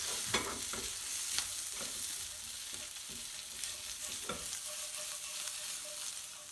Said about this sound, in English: And I'm going to give it a good mix.